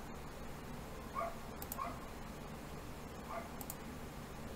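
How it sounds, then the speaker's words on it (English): A dog barks outside, well away from the listener. Three or four faint, muffled barks come at irregular intervals over a steady indoor background hiss. "And there's a dog outside."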